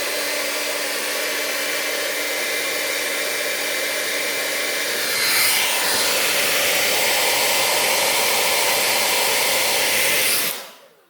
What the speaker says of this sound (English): Get this hair dryer going.